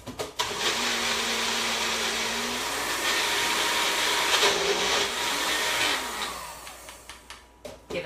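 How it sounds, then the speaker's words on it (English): A Magic Bullet blender blending salad dressing whirs loudly and steadily for several seconds, its motor pitch shifting slightly as it churns, then winds down into a few short pulses. "all you have to do is blend. So I'm just going to use my magic bullet"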